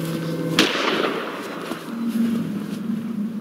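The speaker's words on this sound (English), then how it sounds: "Somebody already shot the bull." A single sharp gunshot cracks out loud and close, fired at a bull on an icy Alaskan landscape, followed by a lingering rumbling tail and steady background noise with no talk.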